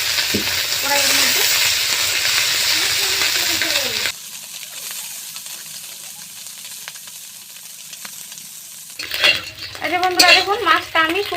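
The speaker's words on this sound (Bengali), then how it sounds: "এবারে আমি মাছটা উপর থেকে দিয়ে দিচ্ছি মশলা করে আমি তেলে দিয়েছি" Spiced assorted small fish fries in hot oil in a heated karahi, a loud steady sizzle that drops away partway through, then returns with metal clattering and stirring noise near the end.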